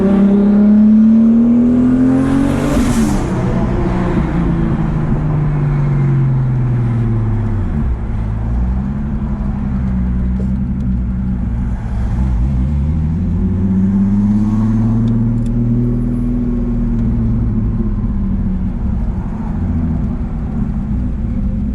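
A newly delivered supercar drives along with steady engine drone and a rise and fall of revs, a continuous loud, close hum throughout with no talk.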